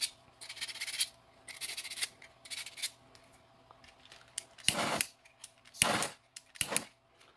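A 3D-printed filament part is sanded by hand in short, scratchy rubbing strokes. Several quieter passes are followed by a few louder, harsher bursts near the end, with brief pauses between them.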